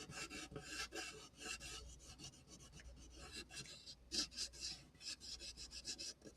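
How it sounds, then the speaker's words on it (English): Sandpaper rubs against a wooden ukulele back in quick, repeated rasping strokes, close and fairly quiet, with no talk. "We're just going to hit this with a little sandpaper."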